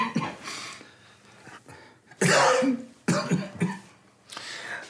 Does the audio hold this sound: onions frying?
no